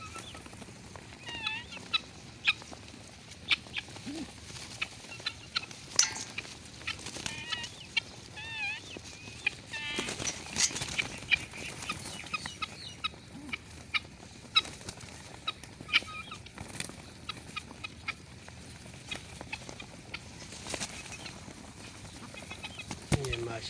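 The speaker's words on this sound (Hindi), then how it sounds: "ये देसी बांगा है, वो देसी मुर्गी है" Desi rooster and hen cluck on a home rooftop terrace, with scattered sharp clucks and wing flaps recurring over a busy outdoor background.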